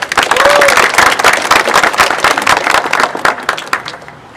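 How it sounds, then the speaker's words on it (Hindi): Audience applause at an interview session, a dense burst of clapping mixed with cheering voices that is loud at first, then thins out and fades over a few seconds. "इसके पहले ताली बनती है भाई"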